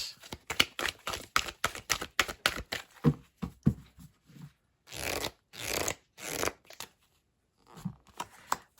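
Quick rhythmic riffling and snapping of cards being shuffled, in bursts separated by brief pauses, close and clear, with longer softer sweeps later.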